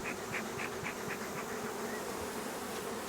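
Honey bees swarm and buzz around an open beehive during a hive inspection, a steady dense drone with a few louder passes of individual bees close by, no talking.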